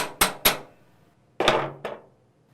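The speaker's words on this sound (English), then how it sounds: "Tap the servo cover to loosen it up from dirt buildup" Light hammer taps on the servo cover of a 4L60E automatic transmission during disassembly: two sharp metallic knocks in quick succession, a pause, then two more ringing taps, close and fairly quiet.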